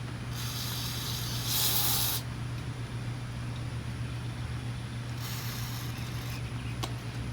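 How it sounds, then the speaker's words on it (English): Bursts of carb cleaner spray hiss in short blasts onto Troy-Bilt leaf blower carburetor parts, one longer spray early and another later, over a steady low engine-like hum. "now you want to start spraying some of the parts off. Make sure you cover it in carb cleaner"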